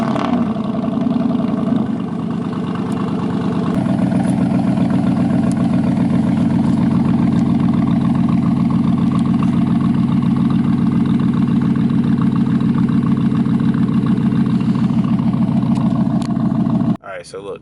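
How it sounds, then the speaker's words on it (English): A truck engine cold-starting and settling into a loud, steady idle, close by with a constant low rumble that cuts off abruptly near the end; a voice speaks over it. "let's get this cold start"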